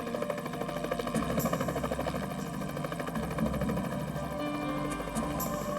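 The steady, pulsing thump of a helicopter's rotor overhead, loud and continuous throughout, with no voices.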